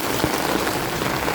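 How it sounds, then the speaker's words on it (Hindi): Large hailstones pelt down during a storm in Arki, Himachal Pradesh, making a dense, steady hiss of impacts with a few louder hits standing out. "इतने बड़े बड़े ओले"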